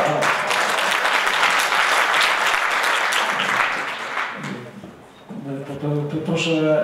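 An audience at a municipal friends-of-the-community meeting claps in a sustained, dense burst of applause that fades out, after which a voice starts speaking close by.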